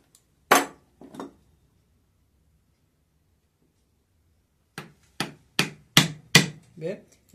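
Sharp, hard blows of a striking tool split deadwood from an espinillo (Vachellia caven) bonsai trunk: one loud crack with a follow-up knock, a pause, then a rapid run of six close, loud strikes.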